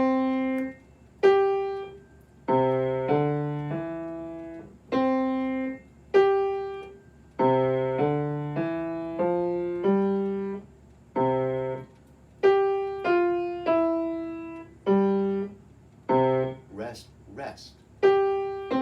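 A keyboard plays a beginner piano hesitation exercise of single notes and short note groups in C position, separated by brief rests. The sound is clean and close, with a tone-like plucked decay, and a few faint noises come near the end.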